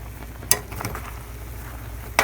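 Flour being stirred into boiling apple cobbler filling, with soft bubbling and a few quick utensil scrapes against the pot, including a sharp clink near the start and another at the end.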